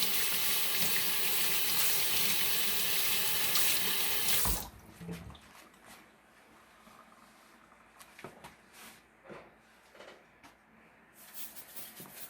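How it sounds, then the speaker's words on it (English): A kitchen sink tap runs steadily and loudly while hands are washed during home Appalachian-style meatball preparation, then shuts off abruptly, leaving faint handling clatter. "Let's wash our hands a minute."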